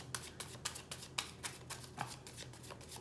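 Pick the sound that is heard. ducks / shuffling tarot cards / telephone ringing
shuffling tarot cards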